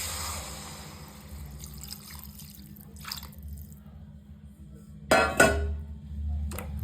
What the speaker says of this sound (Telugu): నెక్స్ట్ మిక్స్ చేసుకున్న తర్వాత వాటర్ పోసుకోవాలి